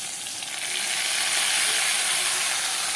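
Spices with tomato, ginger, garlic, onion, cumin and chili powder sizzle steadily in a hot pan, a constant loud frying hiss that swells slightly and runs without any voices.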